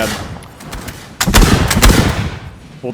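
Musket volleys from Landwehr and reserve infantry in Napoleon Total War's 1815 Battle of Gilly: scattered distant shots at first, then a dense, loud crackle of overlapping gunfire swelling and rolling on.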